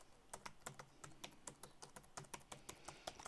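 Rapid clacking of a laptop keyboard picked up through a ModMic USB headset microphone, a steady stream of quiet, close keystrokes with no voice.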